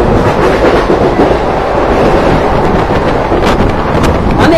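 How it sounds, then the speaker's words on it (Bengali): The new 03161 express train from Kolkata to Digha is heard running: a loud, steady rail rumble with rattling carriage noise and gusty wind buffeting the microphone, and no talking. "মানে এইবার মনে হচ্ছে যে আমরা এক্সপ্রেস ট্রেনে করে যাচ্ছি দীঘা।"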